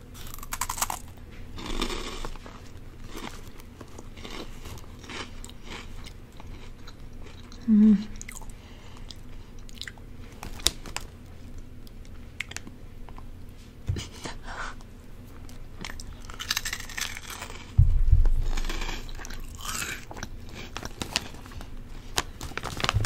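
Close-up chewing of Himalayan happiness puffs, a puffed snack: soft, irregular crunchy bites and mouth sounds recorded very near and quiet, with occasional louder crunches and no talking.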